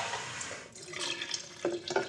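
A cup of water poured into a raw cabbage soup base, giving a steady close splashing and running-water wash that thickens into brief gurgling bursts toward the end, with no talking.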